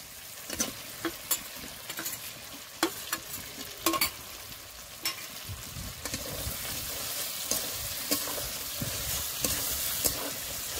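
Fried potatoes tipped into a pan of oil-glossed spice masala for a soybean curry, sizzling steadily while a spoon scrapes and stirs in repeated sharp clinks and scrapes, close up, with no talking.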